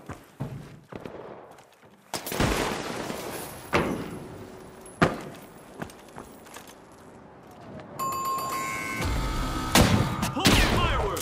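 Fireworks in the video game THE FINALS burst as a run of sharp cracks and bangs, some near and loud, mixed with game sound effects and a crackling stretch near the end.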